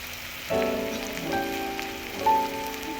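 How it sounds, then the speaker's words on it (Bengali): Onions frying in hot oil with a spoonful of chili powder for a tengra fish curry, giving a steady close sizzle with soft crackles and a few louder bursts, no talking. "পেঁয়াজটাকে লাল লাল করে ভেজে নেব"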